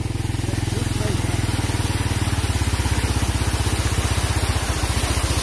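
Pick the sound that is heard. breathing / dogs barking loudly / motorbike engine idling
motorbike engine idling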